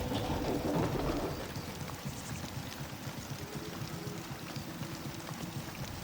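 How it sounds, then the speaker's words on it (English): Steady rain hisses throughout a stormy scene in the video game Dreams, a dense, constant wash of noise with a louder rumbling swell at the start. "The storm rages endlessly."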